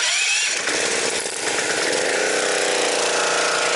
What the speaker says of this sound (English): we're gonna fire up the power washer